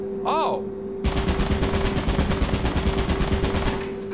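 Rapid turret gunfire in Lethal Company, a loud sustained burst of closely spaced shots lasting about three seconds, preceded by a short electronic warble.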